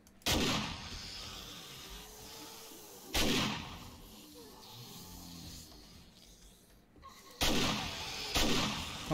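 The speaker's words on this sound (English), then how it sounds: "Oh, this new shotgun is amazing." A shotgun fires in the survival video game 7 Days to Die, three or four separate loud booming blasts spaced a few seconds apart over low background game ambience, with no talk.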